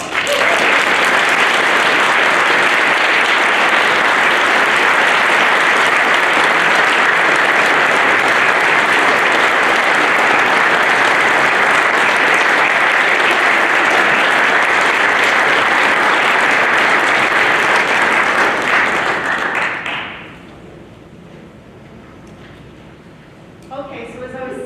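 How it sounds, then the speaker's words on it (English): Sustained audience applause fills the hall at a college-community chorus fall concert, loud and dense for about twenty seconds before cutting off abruptly to near quiet with faint room noise. "Can everyone give her a hand of applause?"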